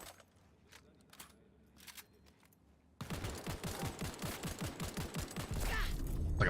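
Rapid gunfire rattles in Cyberpunk 2077, a loud close stream of shots starting abruptly after a quieter stretch of faint clicks and sounds, then continuing steadily to the end.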